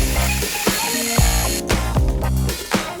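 A power grinder cuts down overlong faceplate screws for a USB wall outlet install, a loud continuous whine with pitch dipping and rising as the tool loads and releases in repeated short passes.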